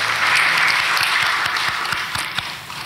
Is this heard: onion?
no